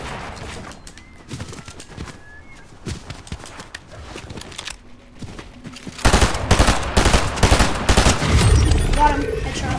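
Gunfire in the video game Fortnite: rapid bursts of shots and impacts, quieter and scattered at first, then a loud, dense volley in the second half, with players talking over it.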